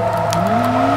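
2003 Toyota APR Performance Celica GTS drifting in Forza 2, a steady loud engine drone with tyre noise, continuous and close, no talk.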